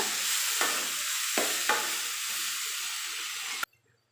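Three chopped tomatoes sautéing in a pan for a Kongu-style brinjal gravy, a loud close hissing sizzle with a few stirring scrapes and knocks, cutting off abruptly to near silence at the end.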